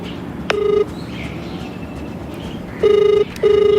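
A steady electronic tone sounds in three short beeps, a phone line ringing out over a quiet, slightly noisy room.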